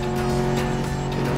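Cars race in a chase sequence from the video game Medal of Honor Warfighter, with a loud, sustained engine roar and tire noise throughout, close and steady with no talking.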